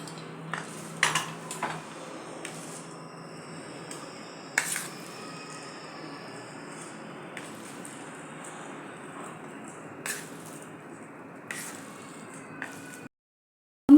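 A spoon stirs tempering into a potato stuffing for bread pakora in a metal pan, giving sparse, quiet clinks and scrapes with a few sharper knocks against the pan, and no talking.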